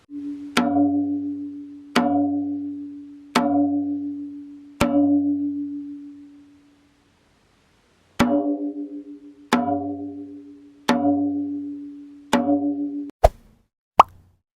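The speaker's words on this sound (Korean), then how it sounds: "각도가 좁혀진 상태에서 치면은 따 소리가 응축된 그런 느낌의 소리가 나거든요" Sharp janggu drum stick strikes ring out one at a time at a steady, measured pace, each with a resonant tonal decay, ending in two quicker, drier hits.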